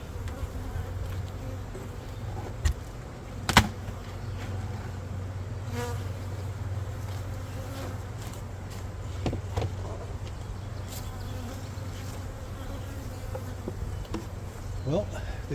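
Honeybees drone in a dense, constant buzz around hives at an apiary in spring, steady and close, with occasional individual bees zipping past louder near the microphone.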